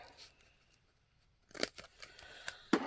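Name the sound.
scissors cutting fabric pocket pieces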